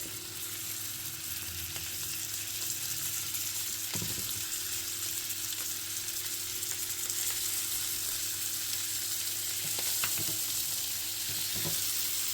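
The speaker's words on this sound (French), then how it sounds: "vous allez poser vos fagots, d'accord, directement dans la matière grasse" Bundles of green beans sizzle steadily in hot fat with bacon, a close, continuous frying hiss with occasional sharper crackles and pops, no voices.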